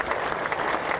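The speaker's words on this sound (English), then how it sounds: "voluminous applause for Tom Latham as he goes for 184" Dense, steady crowd applause fills a cricket ground as New Zealand batter Tom Latham reaches 184 in a County Championship match between Warwickshire and Surrey, loud and sustained with no gaps.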